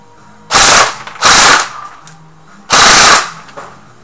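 An Echo1 M4 airsoft rifle fitted with a 15:1 speed gear fires three loud full-auto bursts, two short ones close together and then a longer one, each a dense rapid rattle with quiet gaps between.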